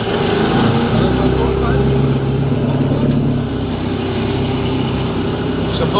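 A 50hp Mercury Thunderbolt outboard motor drones steadily and loudly on a Miki 420 boat out on the water, with people talking over the engine.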